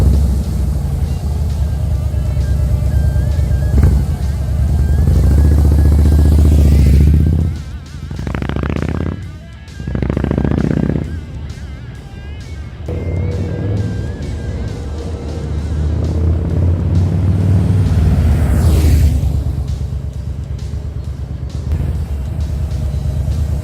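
A Harley-Davidson Fatboy with American Custom slip-on exhausts idles with a deep, loping rumble, then is revved several times in sharp swells before settling back into a steady low throb, close and loud.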